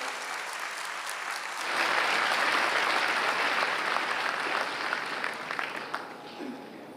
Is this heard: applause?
yes